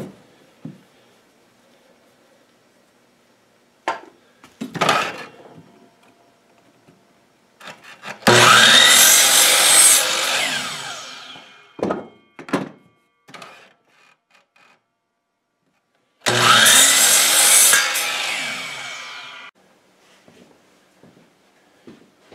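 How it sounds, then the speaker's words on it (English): Hand saw cutting through wood to trim the last piece off a homemade garden bench backrest, in two long, loud bursts of rasping strokes separated by a pause, with scattered knocks and shuffling between them. "now I'm trimming that last little piece off of our back rest"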